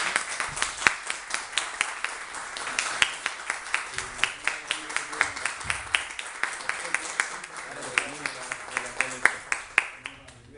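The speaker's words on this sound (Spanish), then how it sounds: "le ofrecemos un aplauso" Applause for a teacher at a farewell tribute, a modest group clapping in a steady, fairly sparse rhythm with distinct individual claps, while a voice speaks faintly beneath.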